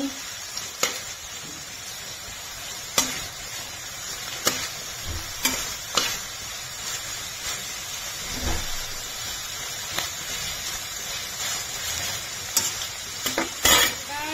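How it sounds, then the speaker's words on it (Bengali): Cauliflower and mixed vegetables stir-fry in a pan for homemade fried rice, with a continuous close sizzle and regular scraping clacks of a spatula against the pan. "ভালো করে ফুলকপিটাকে করে নেব ফ্রাই।"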